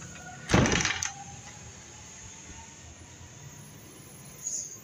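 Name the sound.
door being closed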